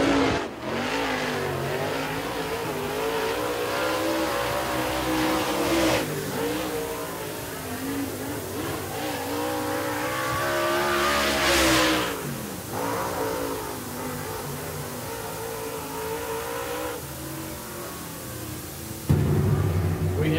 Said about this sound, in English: Mashburn in that Mastersville race car, Grizzle in that Capital race car 99, G